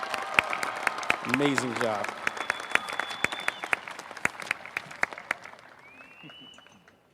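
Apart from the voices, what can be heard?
audience applause for valedictory speakers at a college commencement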